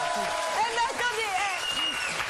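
Studio audience applause on a French TV quiz show set, a steady wash of clapping mixed with cheering and excited voices shouting over it throughout.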